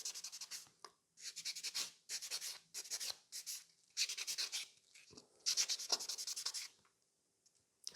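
A file scratches across a black and silver gel nail surface at close range in short, repeated rasping strokes with brief pauses between them, quiet and dry.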